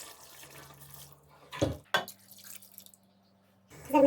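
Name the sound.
water poured onto cooking chicken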